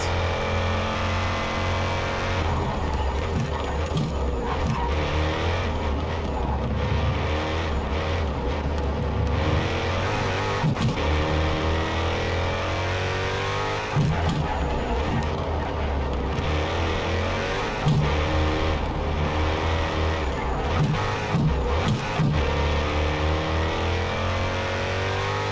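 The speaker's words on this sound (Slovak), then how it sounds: "zvuk motora zvonka sa mi páči" Car engine sound in the racing game Project Cars 3, a continuous loud engine drone rising and falling as it revs and shifts through gears over a long stretch, with no talking.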